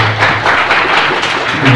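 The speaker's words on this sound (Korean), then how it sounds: "박수 부탁드립니다" A room of students claps for a team after its robot demonstration at a university systems-design final showcase. The applause is a short, fairly loud wash of hands over a low steady hum, with no one talking.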